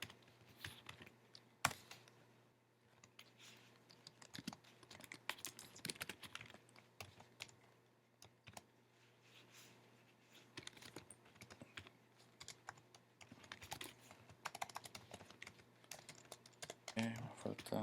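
Rapid typing of an HTML form on a computer keyboard, with dense bursts of crisp key clicks and short pauses between runs, close and quiet, under a faint steady hum with no speech.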